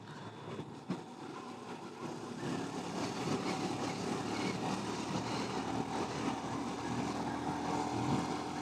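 A Honda Monkey motorcycle engine climbs an uphill village road at full throttle, a steady buzzing drone that holds near and even throughout, with wind noise over it.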